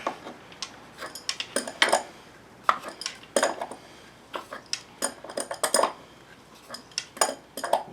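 Wrench ratcheting and clanking on a bolt of a Chrysler PT Cruiser during an oil leak repair, a run of sharp metallic clinks and taps in irregular bursts, close and fairly loud, with no talking.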